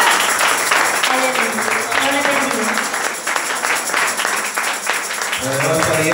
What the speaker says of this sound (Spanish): Un fuerte aplauso, Señor, por su vida.